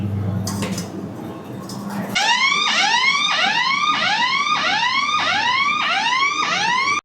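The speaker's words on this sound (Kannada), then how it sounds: "ಈಗ ಸೈರನ್ ಹಾಕಿದೆ ಮೇಡಮ್." A pressure cooker whistle rises and falls in rapid repeated whoops, loud and close, while ghee is being made; before it starts, kitchen clatter and faint talk are heard.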